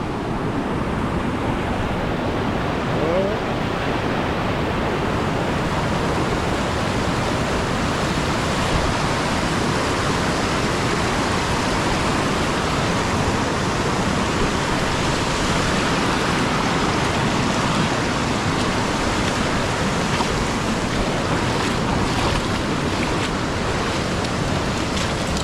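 Sea water rushes in a steady, broad hiss and wash while someone wades ankle deep along a shore, a continuous loud current with no pauses.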